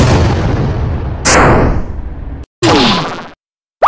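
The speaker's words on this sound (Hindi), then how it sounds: "अभी इसे फायर बम मारता हूँ।" A cartoonish fire bomb explosion bursts loudly with a sharp bang and a sizzling decay, followed by a second whooshing blast after a brief silence, with no talking.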